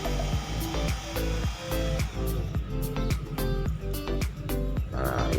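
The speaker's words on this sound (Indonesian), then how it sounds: "Nah, kita bor sekali lagi kayak begini." A power drill with a water-cooled bit bores through a stone for a bracelet bead, whining steadily with repeated knocking and grinding pulses at a close, moderate level.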